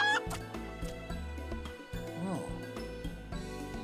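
Soft clucking of chickens in Final Fantasy XIV: Endwalker, scattered short calls mixed with a low synthetic hum and a speaking voice.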